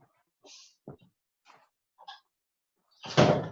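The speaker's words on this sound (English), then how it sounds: "let me close my door here 1 second" A door being shut in a home office, with a few soft shuffles and bumps before a single firm, fairly loud thud close by at the end.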